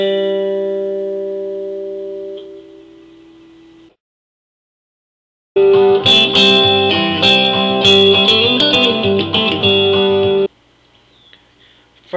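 Guitar phrases ring out through an effects chain: a sustained note fading out, a pause of silence, then a busier run of picked notes and double stops, loud and without voices.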